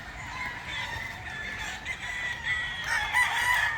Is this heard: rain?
no